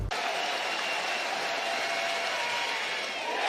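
A capacity crowd at Olsen Field at Blue Bell Park cheering and applauding during a baseball game, a loud, sustained roar with steady clapping throughout, with a voice faintly underneath.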